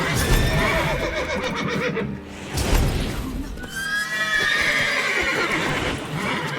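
Several horses in The Witcher 3 neigh and whinny in overlapping calls while hooves clop beneath, dense and close throughout.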